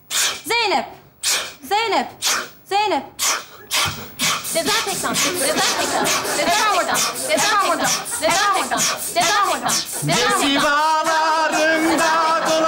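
Sneezing breaks out in a classroom amid voices repeatedly calling out, then gives way to louder, busy overlapping chatter.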